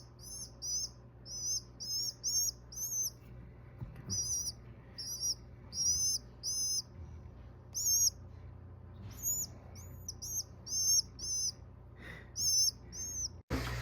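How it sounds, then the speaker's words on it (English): A young rescued pigeon calling in rapid repeated high squeaky cheeps, steady bursts throughout at close range with no talking. "I believe it's a pigeon"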